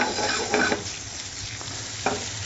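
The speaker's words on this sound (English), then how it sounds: "And so you're actually giving the gnocchi a bit of a sautéing." Potato gnocchi sautéing in a pan, a steady close sizzle with a few louder scraping stirs early on and another sharp scrape near the end.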